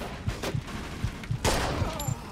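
Carbine gunfire in the video game Mafia 2 crackles in a rapid burst of shots, moderately loud within a busy game scene, one heavier blast standing out midway.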